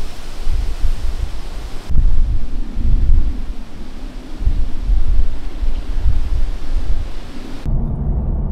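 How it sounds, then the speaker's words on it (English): Strong wind blowing on the Black Sea coast beside houses with private pools, a continuous low roaring rush with gusts that buffet the microphone, loud and close throughout, with no talk. "It's quite windy."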